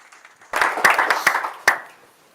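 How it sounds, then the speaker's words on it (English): A few scattered hand claps from a small audience at a marketing summit, starting abruptly and fading within about two seconds, sparse and uneven rather than a full ovation. "Why not clapping your hands?"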